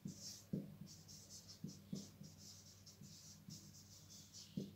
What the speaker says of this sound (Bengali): তাহলে আমি যদি এক নং ইকুয়েশনে বসাই তাহলে x এর মান লিখব